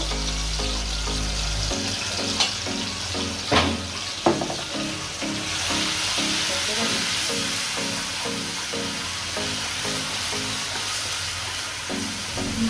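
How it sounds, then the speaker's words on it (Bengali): Spice paste of ground chili and turmeric sizzles steadily in a hot pan, with repeated scraping stirs giving a rhythmic texture throughout and no talking. "মশলাটা কষানো হয়ে গেছে"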